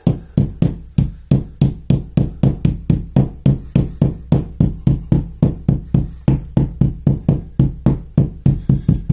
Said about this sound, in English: I'm just going to go ahead and use this hammer on the ball peen side and just knock it